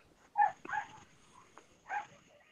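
A pet dog whines and whimpers in a few short, high-pitched bursts, faint and separated by brief pauses, heard at a distance in a quiet room.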